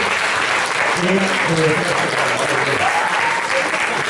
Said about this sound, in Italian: vi chiedo un altro applauso per i nostri relatori di oggi